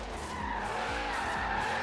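Car tyres skid and squeal in a continuous drift in Forza Horizon 3, a 1500 BHP car sliding sideways with a steady engine drone under the loud, unbroken screech.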